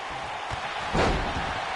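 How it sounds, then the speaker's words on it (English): A wrestler's body slam in WWE 2K18 lands as one heavy, booming thud near the middle, standing out over steady arena crowd noise. "He slams him down with authority."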